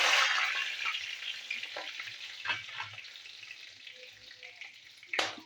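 Bay leaf and garam masala frying together in hot oil, a steady near sizzle with soft stirring clinks and a sharper burst near the end.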